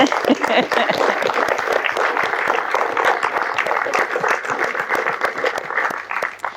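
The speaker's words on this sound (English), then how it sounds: "I think that deserves a round of applause." Wedding guests at a British ceremony break into sustained applause, a dense, steady clatter of many hands clapping together at close range that holds evenly throughout before easing slightly at the very end.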